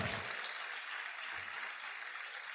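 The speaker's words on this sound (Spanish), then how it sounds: "Esos aplausos están como si no hubieran comido." A church congregation applauding, a distant, steady wash of clapping at low level with no voices over it.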